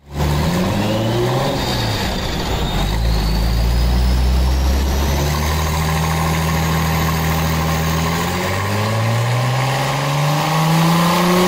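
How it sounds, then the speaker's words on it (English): Porsche Boxster engine running on a dyno, a loud continuous drone with harmonic tones rising and falling as the revs climb and ease, steady and close throughout with no voices. "Porsche Boxster."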